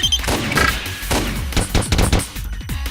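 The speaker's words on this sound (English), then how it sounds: "I aim at the spot on the wall I'd calculated and pull the trigger." A gunshot loaded with full metal jacket rounds fires in the visual novel game I/O, with a loud cracking volley of several sharp reports in quick succession over a dense, busy game soundscape, and nobody speaks.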